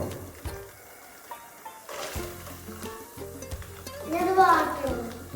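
Coconut pieces frying in hot coconut oil in a pan for a traditional Kerala chicken curry, a soft crackling sizzle with scattered pops, while voices talk over it.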